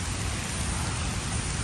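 Heavy rain pours down in the Parvati Valley, a dense, even roar of falling water that stays loud and constant throughout, with no talking.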